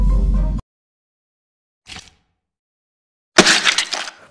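A watermelon smashing sound from the video game Melon Playground comes as three separate bursts divided by silence: a dull heavy thud, then a brief crack, then a loud wet crunching smash.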